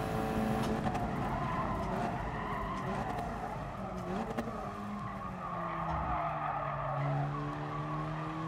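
Race car tyres squeal through a rear slide under power in GT Sport, a sustained wavering screech over a loud, continuous engine drone that rises and falls as the car corrects, with no talk over it.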